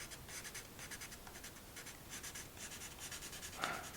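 Pencil shading lines on paper for a horse drawing: repeated quick scratchy strokes back and forth at a steady rhythm, close and fairly soft, with no talking.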